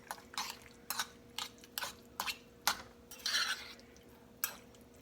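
Spoon stirring Frank's hot sauce into a buffalo chicken filling in a bowl, a series of irregular, close scraping and clinking strokes with brief pauses between them.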